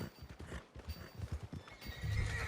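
Horse hooves clip-clop in the video game Red Dead Redemption 2, a quick irregular run of hoofbeats close up, ending in a brief louder horse vocal sound.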